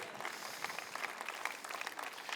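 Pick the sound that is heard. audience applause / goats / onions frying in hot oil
audience applause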